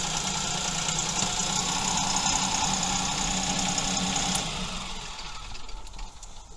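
A Mahindra 2555 tractor engine runs at a steady, fairly low RPM with load sense engaged while a hydraulic pedal is pressed. The close, even drone holds constant, then eases slightly quieter for the last couple of seconds.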